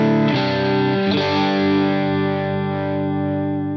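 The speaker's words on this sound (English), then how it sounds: "This is the sound coming out of TONEX going into the Endgame." Clean electric guitar tone from a TONEX running into a KMA Machines Endgame pedal, a sustained strummed chord ringing loud and close and slowly decaying, with no talking.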